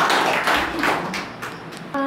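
An audience at a poetry reading claps in a short, dense burst that thins out over two seconds, ending with a faint tonal chime.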